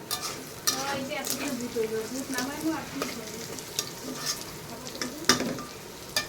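Spice paste for a fish curry fries in a pan over a low gas flame, sizzling steadily while a spoon stirs and scrapes with irregular clinks and knocks, close up.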